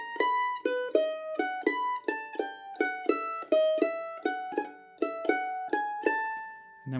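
Mandolin plays a quick triplet phrase from the advanced Golden Eagle Hornpipe: bright picked notes in a brisk, even run, close and clear with no talking.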